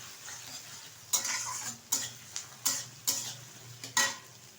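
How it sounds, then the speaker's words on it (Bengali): Grated coconut fries in fish oil while a utensil stirs it in about six regular scraping strokes, each over a soft, continuous sizzle. "এখন এর মধ্যে দিয়ে দেবো কুড়িয়ে রাখা কিছুটা নারকেল। আপনারা নারকেলটা পেস্ট করে ব্যবহার করতে পারেন। তো একটু নেড়ে চেড়ে ভেজে নেব।"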